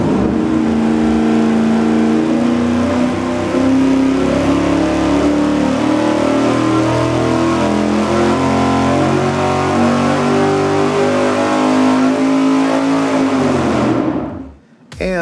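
Racing V8 engine on a dynamometer with an open carburetor spacer, roaring loud and close at full throttle through a long sweeping pull, revs climbing steadily before cutting off abruptly at the end.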